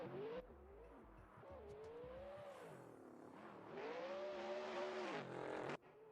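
A drift car at Tokachi International Speedway revs hard through a run, its engine note swooping up and down with tire squeal and skidding hiss, loud and continuous before cutting off near the end.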